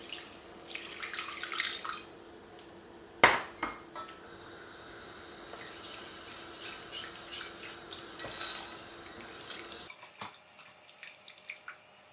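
Cold water poured into a soup pot and stirred in, with a running splash of water followed by scattered clinks and scrapes of a utensil against the pot, fairly quiet and close.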